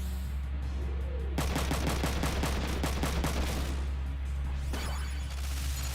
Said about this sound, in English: so we're shooting more bullets